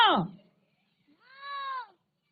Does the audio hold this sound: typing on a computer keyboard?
no